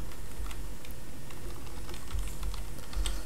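Fingers tap on a computer keyboard in a quick run of light clicks, close but quiet, with no voice over it.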